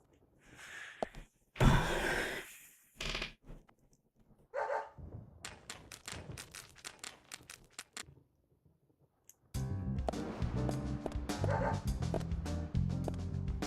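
A dog barks in the video game Deadly Premonition: a few sharp close barks and whimpers in short bursts separated by silence, followed by denser game sound.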